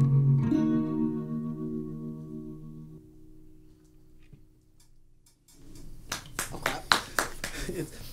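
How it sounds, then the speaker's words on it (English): A single person claps in a sparse, uneven run of sharp hand claps at close range, following the fading sustained notes of a live acoustic music performance. "How's one person clapping feel?"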